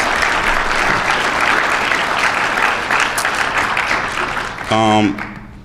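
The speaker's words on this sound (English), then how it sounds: "Can we please give our mayor a hand of applause again" A crowd at a community safety meeting claps steadily in sustained applause for the mayor, which fades toward the end before a voice briefly speaks.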